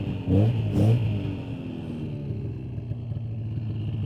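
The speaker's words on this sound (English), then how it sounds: "I'll give it a little throttle to show, in case you can't see it there. It's going to spin the clutch backwards here." Polaris Indy 550 two-stroke snowmobile engine given a little throttle in reverse: two short revving bursts up close, then a lower steady idle that carries on beneath.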